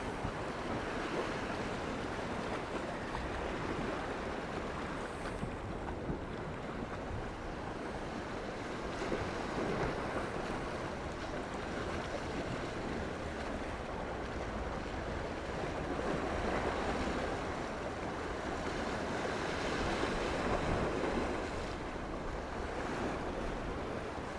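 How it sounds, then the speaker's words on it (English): Sea waves roll in at the harbour of Port d'Andratx, Mallorca, a steady wash of surf with some wind noise on the microphone, continuous and moderately near with no talk. "she can just sit and watch the waves come in"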